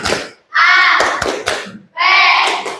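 A school class does a 'tepuk siap' clap cheer: loud group chanting in two bursts, with a few sharp, close hand claps in between.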